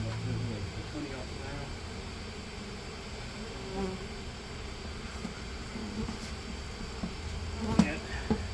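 Honeybees buzz continuously during a hive removal with pressure comb, a dense near drone swelling and fading around the work, with faint voices underneath.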